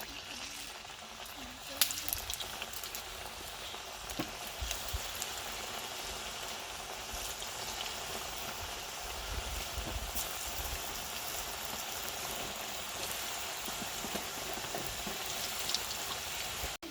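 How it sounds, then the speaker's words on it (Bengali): Spicy meat pitha fry in hot oil, giving a steady, rain-like crackle and sizzle that holds evenly for the whole stretch with occasional sharper pops. "খুব সুন্দরভাবে উল্টে পাল্টে আপনারা পিঠাগুলো ভেজে নিবেন।"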